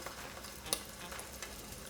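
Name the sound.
oyster dropped into hot frying oil, sizzling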